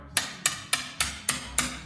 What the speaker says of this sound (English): To get rid of them, you can take a chisel and a hammer.